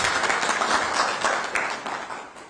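An audience applauds for Kenny at the Chibuku Super Cup 2023 live draw event, a steady wash of clapping that gradually thins and fades toward the end.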